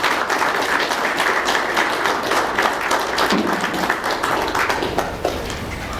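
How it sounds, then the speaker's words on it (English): A round of applause at a young farmers' conference welcoming a speaker, a steady full-room clapping that holds evenly throughout. "Let's welcome him by a round of applause."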